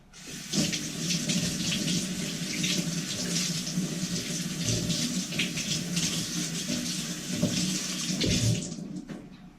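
Kitchen tap water runs steadily into a sink while a chunk of unpeeled ginger is washed for masala chai, a continuous close splashing gush with small shifts as the hands move under the stream.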